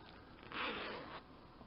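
A zipper is pulled along a small handmade fabric pouch, one smooth rasping run of about two-thirds of a second, close and fairly quiet.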